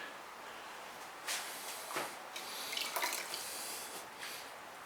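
Ceramic glaze drips and trickles off a small ramekin after pouring, a quiet wet patter of drops and splashes close by, with no talking.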